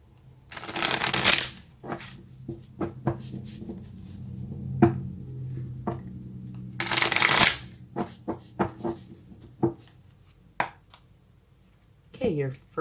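Tarot cards riffle and shuffle in two loud bursts, followed by scattered soft taps and flicks of cards being handled, with someone speaking intermittently.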